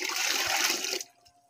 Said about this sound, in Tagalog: Dito ka magbuha ng tubig.